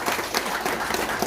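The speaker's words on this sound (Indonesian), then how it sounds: "Tepuk tangan dulu untuk Bapak Ibu semua." Applause from a seminar audience at a community gathering, a dense steady patter of many hands clapping close by for just over a second, with no talk over it.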